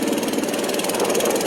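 A Mud Skipper longtail motor with custom exhaust idles on a 15-foot flat-bottom aluminum boat, a loud, close, steady rhythmic chugging with no voices over it.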